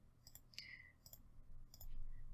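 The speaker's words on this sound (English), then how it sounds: "I am just clicking this little plus sign right here." Computer mouse clicks while working in PowerPoint, a few soft, sharp ticks spread unevenly over a faint low hum, with a brief electronic chirp among them and no talking.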